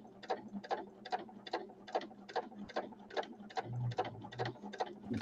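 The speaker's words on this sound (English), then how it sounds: "Just top stitching it all the way around." Home sewing machine running a top stitch around the edge of a fabric piece, a steady rapid mechanical ticking of needle strokes repeating about twice a second, close and moderately loud with no talking.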